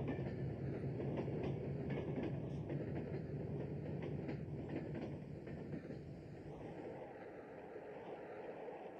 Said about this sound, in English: The train was set in motion without a driver.